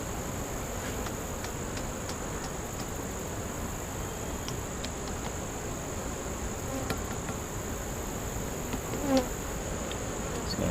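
Honeybees buzzing in an open hive during an inspection, a steady, dense hum of many insects close by with a few brief ticks and clicks scattered through.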